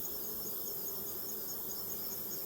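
Honeybees drone steadily around an open hive during an inspection of brood frames before winter, a faint, continuous hum with no voices.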